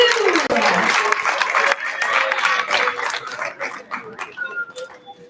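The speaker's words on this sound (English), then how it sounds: "give a round of applause for Mr. Clint from 9 Province Kung Fu" At an outdoor culture festival, a crowd applauds Clint from 9 Province Kung Fu, a dense burst of clapping that gradually thins out, with voices and faint bird calls coming through as it fades.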